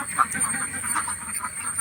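A flock of Kuttanad ducks, drakes and hens at a Kuruppanthara riverside landing in Kerala, keeps up a continuous stream of rapid, overlapping quacks at moderate distance.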